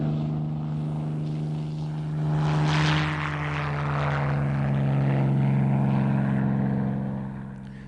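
A Supermarine Spitfire propeller fighter overtakes in flight, heard as a loud, steady engine drone that swells toward the middle and holds strong before easing slightly at the end. No one talks.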